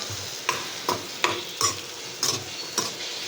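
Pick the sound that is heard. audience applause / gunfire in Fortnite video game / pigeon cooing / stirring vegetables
stirring vegetables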